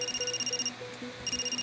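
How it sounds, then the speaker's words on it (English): Phone ringing in a video game, a repeating electronic ringtone that trills in two bursts with a brief pause between, fairly quiet under a low background hum. "Oh, I'm getting a phone call."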